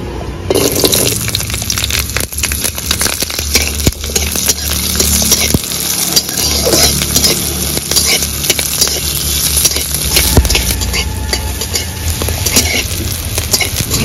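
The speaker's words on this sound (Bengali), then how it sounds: "কড়াইয়ে হালকা করে তেল দিয়ে দেব। লঙ্কা আর রসুনটা ভেজে নেব।" Chilli and garlic fry in oil in a wok, giving a loud, continuous crackling sizzle with dense spitting and popping that runs unbroken with no voices.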